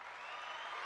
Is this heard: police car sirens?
no